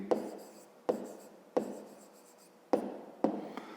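Pen or pencil writing by hand on paper, a steady close scratching broken by five sharp taps as each new stroke or word begins.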